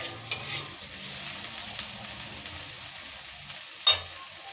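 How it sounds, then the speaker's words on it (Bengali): Chopped onion frying gently in a pan with a soft, steady sizzle and stirring, broken by two brief louder scrapes or clatters, no voices. "পেঁয়াজটা খুব বেশি ভাজবো না"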